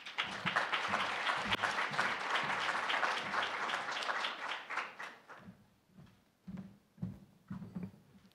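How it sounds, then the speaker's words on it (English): Audience applause at a food security symposium, a dense, loud burst of clapping for about five seconds that thins into scattered, fading claps. "let's give him a round of applause"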